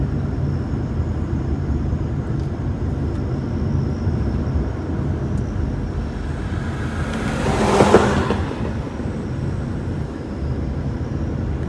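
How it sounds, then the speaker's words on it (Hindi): A car speeds along a road through a reserve forest, a steady low rumble that swells into a passing whoosh near the middle before fading, heard from inside a moving vehicle. "पीछे भी एक गाड़ी आ रही है"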